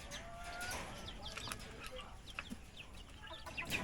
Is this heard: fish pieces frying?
no